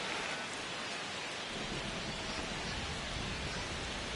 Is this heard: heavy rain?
yes